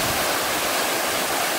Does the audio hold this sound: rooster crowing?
no